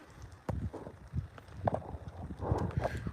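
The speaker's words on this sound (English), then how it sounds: "Beautiful horses, man. Nice Palomino back there." Palomino horses clip-clop along, a steady stream of hoofbeats with irregular rhythm, moderately near and somewhat muffled under light wind and background noise.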